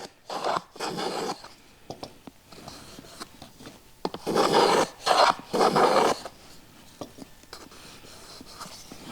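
Hand tool chamfering the inside edge of a small wooden hinged business card box, a series of short rasping strokes, close and distinct, with the middle ones loudest.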